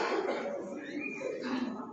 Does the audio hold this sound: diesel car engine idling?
no